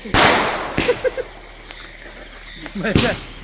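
A few sharp firecracker bangs go off at uneven intervals, fairly close, with people talking between the bursts, on the eve of a wedding.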